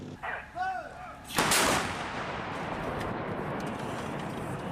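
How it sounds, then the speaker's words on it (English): Artillery fire against an armored group: a loud booming blast bursts in about a second in, followed by a sustained roaring rumble and crackle of shelling that fills the rest of the moment. "The armored group came under artillery fire"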